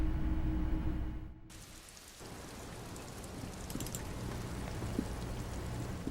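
Rain falls steadily in the video game Disco Elysium, a dense, even hiss that fills the whole stretch after a brief quieter dip near the start, with no voices over it.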